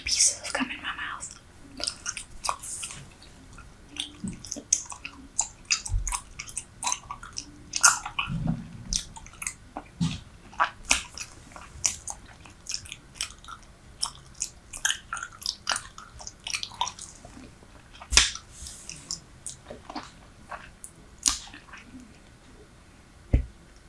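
Three pieces of bubble gum are chewed right against a microphone, producing close, wet, sticky smacks and squishes in an irregular rhythm with occasional sharper pops, with quiet breaths between.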